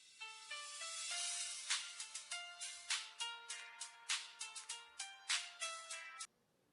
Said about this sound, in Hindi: किसकी कॉल आ रही है?